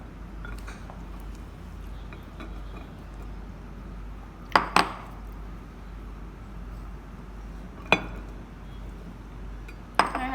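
A spoon clinks against a dish several times as chickpeas (chana) are added onto papri chaat for gol gappay, with soft scattered taps over a quiet kitchen background.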